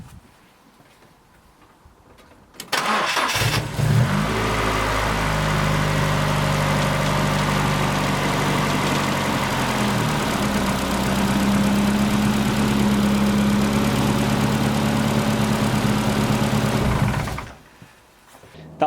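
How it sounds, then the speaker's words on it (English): A 1993 Ford Fiesta XR2i 16V engine, fitted with a freshly tensioned new belt, cranks and catches, then settles into a steady, close idle that runs for about fourteen seconds before cutting off. "I'm going to start the engine and see if that squealing's gone."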